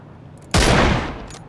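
A single loud M24 sniper rifle shot in the battle royale game PUBG bursts out close after a quiet moment, its report decaying into a long rolling echo.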